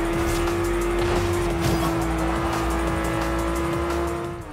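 Race cars in Forza Horizon 2 during an overtake, a loud sustained engine drone with a steady high tone, faint tire squeal and rushing road noise, fading slightly at the end.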